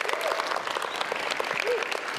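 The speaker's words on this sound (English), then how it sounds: "Round of applause, please." An audience at the Honor 7 phone launch event in India claps steadily, a dense even wash of applause throughout with a faint voice tone briefly above it.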